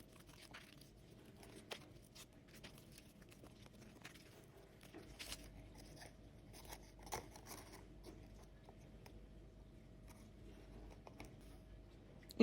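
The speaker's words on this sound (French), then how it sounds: "On vient découper à la dimension souhaitée." Scissors cut sheets of decorative paper-like fan material to size, a faint, intermittent snipping and crinkling with a few soft clicks, close by and quiet, no voices.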